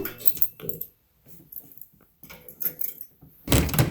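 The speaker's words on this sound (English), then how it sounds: "Keys." Keys jangle in several short metallic bursts separated by brief pauses, close and fairly quiet, with a louder rattling shake at the end.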